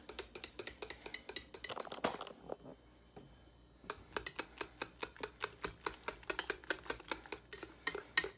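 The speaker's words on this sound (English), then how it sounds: "I'm gonna stir it some more" A utensil stirs peanut butter pie filling for a peanut butter pie in a bowl, making a steady run of close, crisp clinks against the side that pauses for about a second before resuming at an even rhythm.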